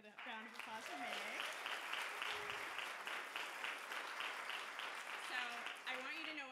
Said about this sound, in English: If I can get a round of applause for Meg.